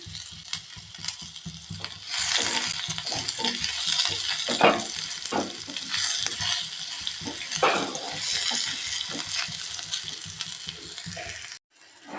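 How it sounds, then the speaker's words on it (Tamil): Chopped big onions with dried chilli sautéing in a pan for snake gourd kootu: a soft, continuous sizzle with repeated scraping and clacking of a spatula stirring, close and moderately loud, ending in a brief pause. "நம்ம வெட்டி வச்சுருக்க பெரிய வெங்காயத்தை வந்து சேர்த்துக்கலாங்க லைட்டாக அதை வணக்கிக்கலாங்க"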